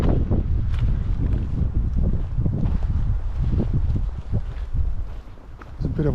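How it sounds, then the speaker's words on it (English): Wind blows on a forest trail in Algonquin's Western Uplands, buffeting the microphone in steady rumbling gusts that ease slightly near the end. "Bit of a wind."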